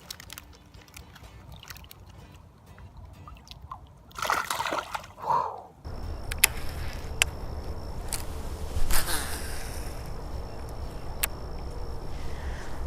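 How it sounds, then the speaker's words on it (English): A live largemouth bass is slipped back into a pond, giving a short burst of splashing and sloshing water up close, followed by steady outdoor background noise. "I'm going to get him back in the water"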